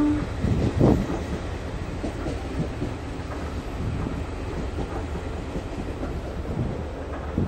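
In the MSTS train simulator game, the 16328 Guruvayur–Madurai Express leaves Punkunnam station with a steady rolling rumble and faint rhythmic clatter. A brief bump near the start rises above the constant rumble.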